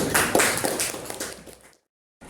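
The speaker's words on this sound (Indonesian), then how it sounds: "Ya tepuk tangan buat kelompok 7" Classroom applause for group 7 in a grade 8 class, a short burst of many students clapping briskly for about a second and a half, then fading and cutting to silence before a faint resumption.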